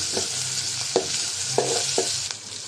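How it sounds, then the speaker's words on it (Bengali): Spice paste of turmeric, coriander powder and salt sizzles in a pan while a spoon scrapes and stirs it in a few short strokes, close and steady. "দিয়ে দিলাম হলুদের গুঁড়া, ধনিয়ার গুঁড়া, লবণ। তো মশলাটা কষাই নেব এখন।"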